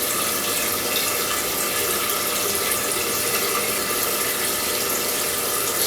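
Tap water pours steadily and loudly into a container being filled about halfway for homemade Korean rice wine, a constant rushing splash with no speech.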